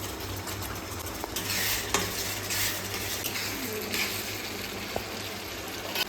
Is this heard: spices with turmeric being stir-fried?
yes